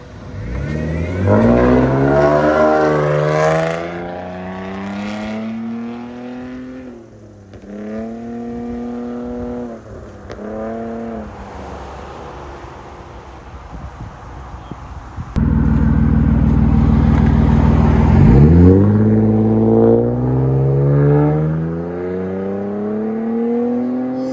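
A 2015 Nissan Maxima with a 3.5L V6 and straight-pipe exhaust revs repeatedly, climbing and falling in pitch, then holds a loud sustained high rev near the end before dropping back down.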